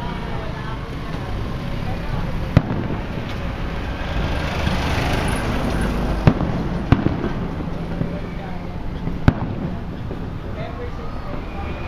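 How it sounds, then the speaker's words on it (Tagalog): A centennial fireworks display over Arellano Avenue at De La Salle University bursting at a distance, with several sharp bangs standing out from a steady rumbling wash of crowd noise and wind. "You are now watching the live fireworks display here at Arellano Avenue for the Lasal 100 celebration."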